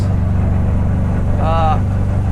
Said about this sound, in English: I'm sure you can tell from the video this car is loud